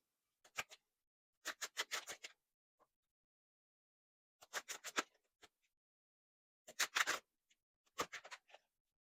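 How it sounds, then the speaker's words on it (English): Tarot cards are shuffled and laid out in quiet, close bursts of riffling and flicking. Short clusters of crisp clicks and slaps are separated by silent pauses. "I'm going to shuffle and lay the cards"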